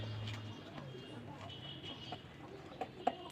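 A desi pigeon having colour rubbed onto its feathers gives a soft, low coo at the start, followed by faint rustling and a few sharp handling taps close by.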